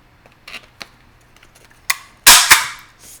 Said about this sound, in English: Now I want you to take a stapler or tape, whichever one you have, some kind of way to fasten it.